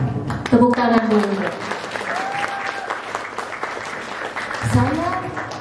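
An audience applauds at a regional health talk event, with steady clapping that goes on throughout, while a voice speaks over it and near the end.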